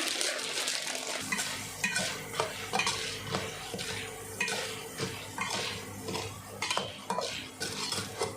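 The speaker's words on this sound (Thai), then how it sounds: "แล้วก็คนไปเรื่อยๆอย่างนี้มาเลยค่ะ" Popcorn kernels are stirred in a covered pan on the stove, a rhythmic scraping and rattling of utensil against metal repeating about once a second over a soft sizzle.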